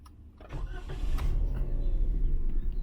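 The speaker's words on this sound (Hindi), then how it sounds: "उसके बाद आपने गाड़ी को स्टार्ट कर लेना है।" A manual car's engine cranks and starts about half a second in, then settles into a steady low idle that grows slightly louder, heard close with no talk.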